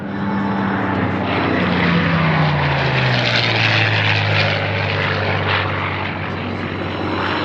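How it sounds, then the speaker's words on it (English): A World War II P-51 Mustang fighter roars past in a loud, steady flyby. Its propeller engine drone falls steadily in pitch as it passes, with no talk over it. "The amazing sound and power of the P-51 Mustang, delivering every single time."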